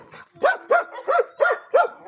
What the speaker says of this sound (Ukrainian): а каштанчик вміє гавкати, так що аж вуха закладає